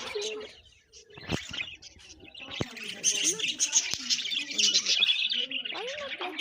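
Pet budgies chirping and tweeting in short bursts at close range, a busy twittering chatter with a few sharper squawks and brief wing flaps, carrying on steadily without any talking.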